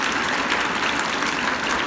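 Applause from schoolchildren at a convent school assembly, a steady dense wash of many small hands clapping together, moderately loud and continuous with no break or talk.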